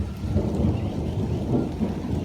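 Rain pours steadily around a house while thunder rolls in low, continuous rumbles underneath, fairly loud with no voices.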